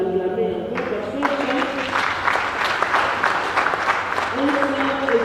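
Applause from an audience at a public gathering on resource management, a dense steady clatter of many hands filling the whole stretch, with a voice speaking over it at the start and end.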